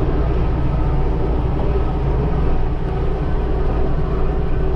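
Tractor running its PTO at a full 540 RPM while pulling a hay drag across a hayfield at about 5.5 mph, giving a steady, loud, close engine drone and low mechanical rumble with no breaks.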